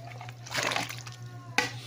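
A talakitok fish head is lowered into a pot of boiling water for soup, bringing a soft splash and bubbling slosh over a steady low hum, then a brief sharp clink near the end.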